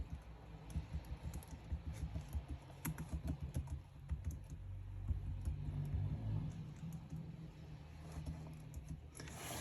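Someone types on a computer keyboard close by, a quick uneven run of key clicks in bursts with a brief pause partway through and no talking.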